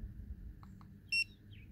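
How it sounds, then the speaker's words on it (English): Beep from the light button of a Playshion CW01 electric scooter, pressed to switch the headlight on: two faint soft clicks, then one short, clear, high electronic beep over low background rumble. "if you wanna turn the light on, you just press this once. Then it'll turn the light on. Get the little beep."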